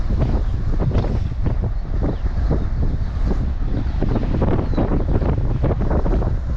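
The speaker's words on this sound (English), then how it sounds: "Wind's got pretty strong down here" Strong wind buffets the microphone at a sandy beach with dune fields, a loud continuous low roar of gusts with surf-like rumble throughout, no voice heard.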